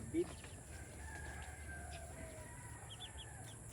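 Chickens and chicks beside a river, with one short, fairly close cluck at the start followed by faint, distant crowing and soft peeping over a steady outdoor background hiss.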